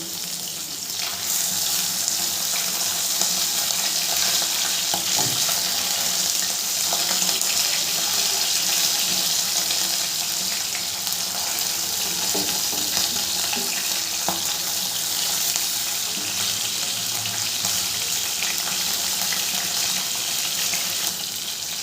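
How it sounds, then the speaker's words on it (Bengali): Fish frying in oil in a pan over a medium gas flame produces a steady, dense hiss with faint crackles that hold evenly for a long stretch, with no voices. "গ্যাসের ফ্লেমটা মিডিয়ামে রেখে মাছগুলোকে আমি ভেজে নেব।"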